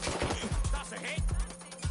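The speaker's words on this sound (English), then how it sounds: "Shots fired." Gunfire in Watch Dogs Legion: a quick succession of hard, close shots, almost like an automatic burst, packed into two seconds with a steady low hum underneath.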